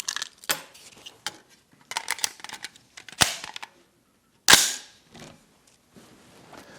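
Suppressed rifle firing Norma 55-grain cartridges: several sharp, close cracks sound separately at uneven intervals, with one louder report, and each is followed by brief metallic clinks and handling noises.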